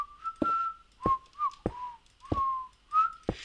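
A person whistles a short melodic phrase of several clear, sliding notes in a quiet room, each note broken by soft breaths or clicks, close and fairly soft, with no talking.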